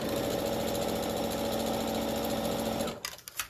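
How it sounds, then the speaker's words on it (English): A sewing machine stitches a stack-n-whack quilt block in a steady, close, continuous whir, then stops abruptly near the end, leaving a few soft clicks and handling sounds. "Okay, so I'm going to go back to here, stitch that one up."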